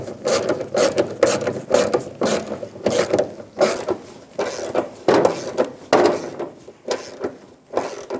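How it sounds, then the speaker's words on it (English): Bolts for the fuel tank straps on a 2000-2007 Ford Focus being driven in with a ratchet, a close, steady series of rhythmic clicking and ratcheting bursts. "Install the bolt and tank straps up into the vehicle."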